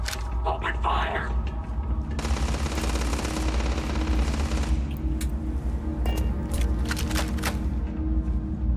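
Sustained automatic gunfire in the sci-fi shooter Starfield, a dense rattling burst of weapon fire with sharper individual cracks toward the end, loud and close alongside a voice talking.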